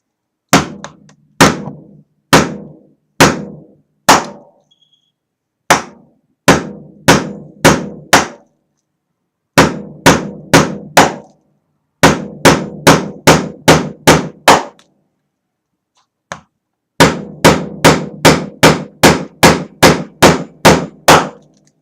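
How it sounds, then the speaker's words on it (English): A hammer drives a nail against a glass sheet held inside a plastic bag, giving sharp, loud metallic strikes in quick bursts of three to seven blows separated by brief pauses, with no talking. "apply another force to the glass with the hammer and the nail"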